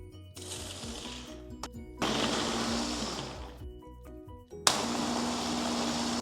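An electric crusher chops small pineapple pieces in a few loud motor bursts with short pauses between them, a whirring grind that starts and stops three times up close.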